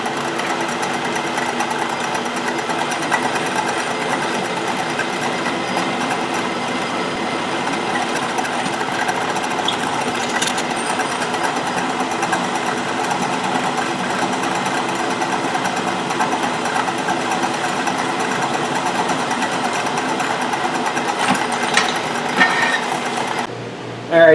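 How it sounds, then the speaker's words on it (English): A steady mechanical whine and grinding from a belt-driven drill press drilling metal, its loose belt letting it stall, runs continuously for about twenty-four seconds, loud and close, stopping abruptly at the end. "the belt on my drill press is set really loose, so it'll stall out"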